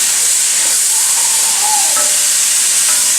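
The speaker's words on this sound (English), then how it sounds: "Nice steam." Loud, steady hiss of steam and sizzling from kale wilting in a hot pan, a broad crackling wash with faint bubbling, close and continuous.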